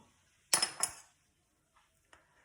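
A metal spoon clinks twice in quick succession against a dish while chili pepper is sprinkled over bread for bruschetta, followed by two faint small taps in an otherwise quiet kitchen.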